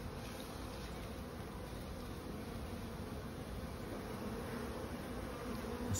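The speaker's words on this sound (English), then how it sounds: "This hive was always buzzing my head" Honeybees buzz around a hive being treated for varroa mites in fall, a continuous faint, steady hum without talk.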